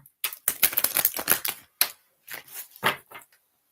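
Tarot cards being shuffled close up, a few quick bursts of crisp riffling and flicking separated by short pauses.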